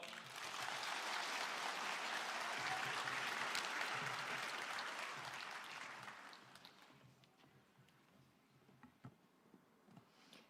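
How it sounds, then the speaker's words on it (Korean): An audience at a provincial public hearing in Haenam applauds the governor in a broad, sustained wave of clapping that fades after about six seconds, leaving sparse isolated claps. "지사님께 다시 한번 큰 박수 부탁드립니다"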